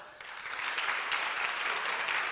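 An audience at an event at the Ljubljana Technology Park applauds for Celtra, a dense, steady burst of clapping held at an even level.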